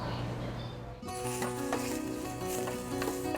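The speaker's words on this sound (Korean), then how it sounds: "먼저 먹기 좋게 자른 뒤통구이 고기를 냄비에 넣고 살짝 익힌 다음" Sliced pork searing in a pot as the first step of kimchi stew, a steady loud sizzle that flares sharper after a second, with faint stirring clinks beneath; no one speaks.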